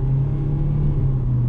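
Gasoline-powered 2018 Mitsubishi ASX 4x2 engine pulling hard under full throttle from about 30–40 km/h, a steady deep droning rumble holding strong and even throughout, heard close from inside the car with no talk.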